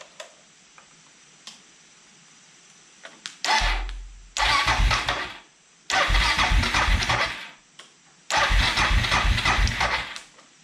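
A Suzuki DR650 motorcycle engine with a newly replaced base gasket: a few faint clicks, then repeated loud bursts of cranking and running separated by short silent gaps, ending in steadier engine noise.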